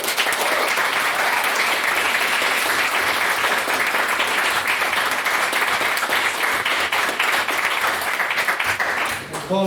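Thick, continuous clapping fills the room at a student-style debate, holding loud and even for almost ten seconds before tapering as someone begins to talk.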